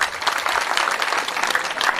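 An audience at a Sanatan religious assembly and youth conference claps together, producing dense, loud, continuous applause throughout.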